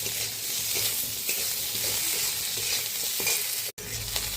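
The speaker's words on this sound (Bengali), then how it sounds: "এখন কিছু সিদ্ধ করা আলু দিয়ে দেব। অল্প লবণ আর হলুদ গুঁড়ো দিয়ে লাল লাল করে ভেজে নেব।" Boiled potatoes with salt and turmeric hiss loudly in a pan after fried onion and garlic, a dense continuous sizzle with soft stirring scrapes and a brief cut near the end.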